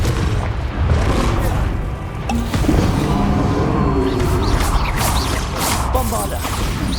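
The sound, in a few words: Confringo fire-blast spell explosion in video game Hogwarts Legacy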